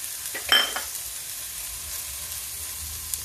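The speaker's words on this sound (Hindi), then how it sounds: "अब इसको ऐसे धीमे धीमे फ्राई करेंगे और ये टेस्टी सी तैयार हो जाएगी।" Soaked sprouted lentils fry in a pan with a steady soft sizzle, broken early by a short clatter of stirring against the pan, then continuing evenly and close.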